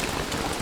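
Steady rain patters densely and evenly in Don't Starve, a constant hiss of drops with no voices.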